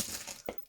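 Glass beads clink softly as someone sorts through a colour-ordered bead box, with light rattling and one sharper click near the end, faint and close.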